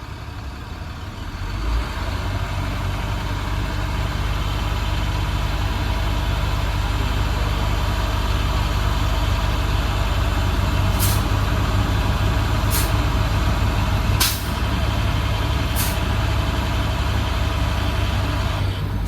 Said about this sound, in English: I will speed up the process by accelerating no more than 1500 RPM.